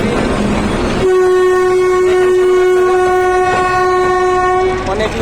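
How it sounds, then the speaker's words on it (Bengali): At the Joydebpur railway crossing, a passing train gives a loud, sustained horn blast lasting several seconds over the rumble and clatter of the rail cars, with busy outdoor noise just before it starts. "সবার উদ্দেশ্যে একটা ট্রেন যাইতেছে"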